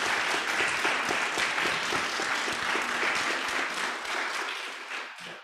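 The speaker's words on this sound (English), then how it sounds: "if we could give them a big round of applause, that'd be great" A church congregation applauds Sunday school teachers during a children's Sunday school program, with steady, dense clapping that holds for several seconds and then fades out at the end.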